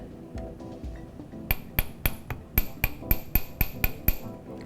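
A small metal hammer taps jewelry wire for tourmaline hoop earrings, a few soft strikes and then about a dozen sharp, ringing metallic blows in a quick, fairly even rhythm, close and clear.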